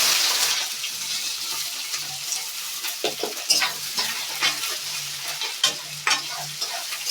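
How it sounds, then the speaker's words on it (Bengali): Chopped onions hit a pan with ground cumin paste and fry with a bright, continuous hiss, broken by scraping stirring strokes and small clatters, close and with no talking. "দেখো কেটে রাখা পেঁয়াজ দিয়ে দিলাম"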